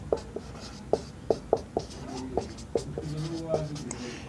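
Chalk or marker writing out a maths property during a Class 9 lecture, a run of sharp taps and short scratchy strokes at close range, alone without talk.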